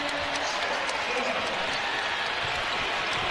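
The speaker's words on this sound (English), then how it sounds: "That gets the North Carolina crowd that's at the Garden alive" A basketball crowd roars after a three-pointer in a North Carolina college game at the Garden. The cheering is a dense, steady wash of arena noise that holds at an even level under a commentator's voice.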